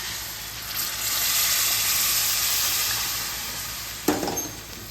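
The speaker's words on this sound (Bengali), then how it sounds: "আমি পাশে গরম জল করে রেখেছি এর মধ্যে অ্যাড করে দিচ্ছি" Hot water goes into a pan of chicken and yam curry that was frying in a Bengali kitchen. A loud, hissing sizzle swells, then a sharp splashing burst follows near the end.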